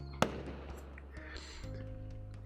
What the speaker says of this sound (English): I was wondering if they're going to add firework sounds in the background